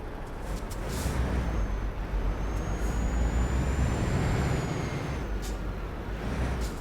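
A DAF truck in Euro Truck Simulator 2 pulls away. A short air hiss gives way to a steady, loud low engine rumble with a faint rising whine, and no voices are heard.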